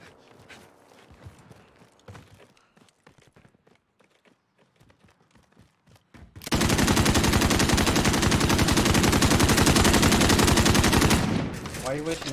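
Loud, dense sustained burst of automatic gunfire in Call of Duty: Modern Warfare, kicking in after several seconds of quieter scattered game noise and footsteps, rapid steady shots lasting about five seconds before tapering off.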